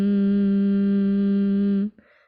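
A steady, sustained hum of Brahmari breath, a voice imitating a buzzing bee on the exhale. The tone stays loud and even for nearly two seconds, then stops, followed by a faint breath.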